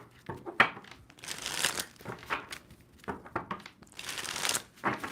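A tarot card deck being shuffled by hand, with several bursts of crisp papery riffling and crinkling in quick succession, close and fairly quiet, with no talking.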